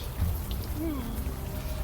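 Rain falling on a city street near an open manhole in the point-and-click adventure game Unavowed, a steady soft hiss with scattered drips under a faint low rumble, with no voices.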